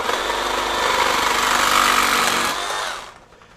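A FLEX FX2241 24V brushless one-handed reciprocating saw rips through PVC pipe with a loud, continuous buzzing whine that rises slightly mid-cut, then winds down and stops near the end.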